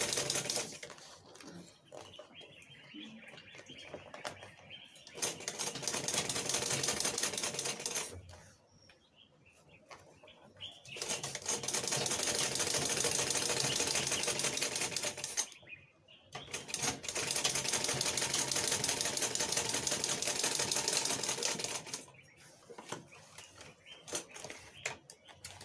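A sewing machine stitches a shoulder bag in fast, rattling runs of about five seconds each, separated by quiet pauses, heard up close and moderately loud.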